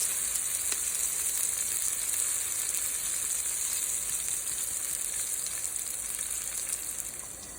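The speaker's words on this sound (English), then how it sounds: "just add some olive oil into the pan, and we're going to add in that one chopped onion." Chopped onion frying in olive oil in a pan over medium-high heat, a continuous bright sizzle that stays even and close throughout, with no voices.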